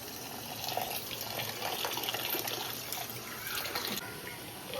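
Soaked lentils for medu vada are rinsed in water in a home kitchen, with a steady splashing, running-water wash and occasional swishes as the dal is stirred.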